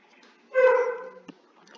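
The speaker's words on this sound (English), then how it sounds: "You can hear my dog barking." A single dog bark rings out indoors, clear and moderately close, followed by a faint short yip and then quiet.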